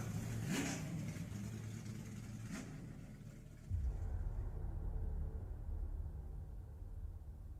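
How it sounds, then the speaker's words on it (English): Race cars in the iRacing simulator rev and accelerate with a rising engine whine, shifting into a louder low rumble partway through as the engine drone continues with no talk over it. "these iRacing iFlag cars are fast tonight"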